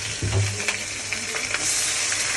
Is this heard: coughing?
no